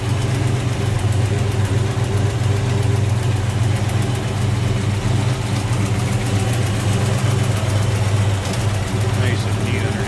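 A 1969 Chevrolet Nova two-door sedan with a 396 V8, center headers and HEI ignition, idles steadily up close with a deep, even rumble, while someone talks over it.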